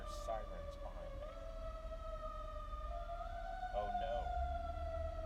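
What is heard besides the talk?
emergency vehicle sirens passing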